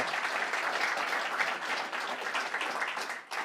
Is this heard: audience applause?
yes